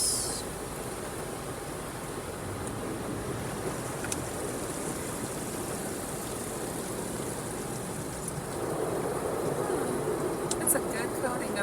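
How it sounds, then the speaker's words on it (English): Spot-free rinse water spraying down from overhead in an automatic Autec Evolution car wash, a steady close hiss and rush of falling water that swells louder near the end, with people talking over it. "so this is spot-free rinse here"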